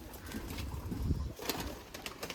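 A female pigeon is let go from the hand and flaps away, a brief burst of wing beats with soft coos nearby, close at hand, with no talk.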